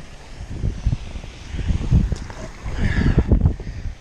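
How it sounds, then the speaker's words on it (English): Gusty wind buffets the microphone outdoors beside a pond during bass fishing, producing irregular low rumbling bursts that swell and fade, loud and close, with no talking. "I know it's windy"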